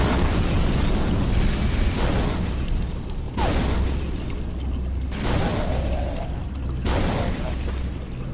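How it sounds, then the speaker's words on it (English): An alien gun fires charged shots in Call of Cthulhu: Dark Corners of the Earth, giving loud booming bursts roughly every couple of seconds over a dense, roaring game soundscape. "get myself an alien gun. It's a one-hit kill weapon if you charge it a bit"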